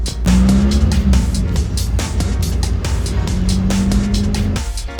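A VW Touran pulls away with a steady engine drone and tyre noise, loud and close, some clattering knocks over the top, with no talking.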